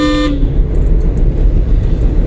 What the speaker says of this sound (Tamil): ஹார்ன் அடிக்கணும் அவருக்கு.